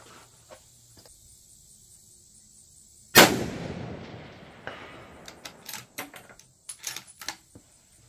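A single sharp rifle shot fired with Remington ammunition cracks loudly at a steel target plate, followed by a decaying echo and then a series of small clicks and handling noises in an otherwise quiet outdoor setting.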